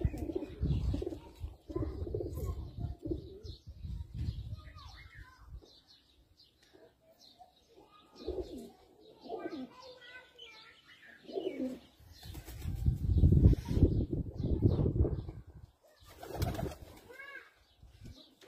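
Teddy flying pigeons coo in soft, repeated phrases with occasional chirps, close by, interrupted by bursts of handling noise and a few brief voices in between.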